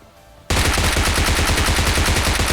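A PP-Bizon submachine gun fires in a video game, a sudden loud burst of rapid automatic shots that starts after a short quiet moment and continues without a break.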